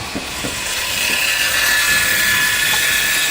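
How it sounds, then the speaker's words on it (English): An angle grinder cuts rebar on a Philippine house-build site, giving a steady, loud, broadband grinding whine that holds for the whole stretch, with a few faint knocks at the start. "They got the grinder that I bought."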